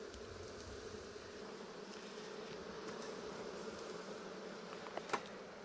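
Honeybees hum in a continuous, fairly quiet drone around an open beehive, with a few brief louder buzzes as individual bees pass close near the end.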